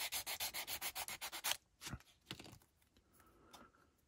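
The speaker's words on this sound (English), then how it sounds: "Use this trusty sanding pad." Plastic being sanded with a hand sanding pad for an engine-swap firewall recess: about a dozen quick, even rubbing strokes, close and loud, then a few scattered scrapes and handling sounds.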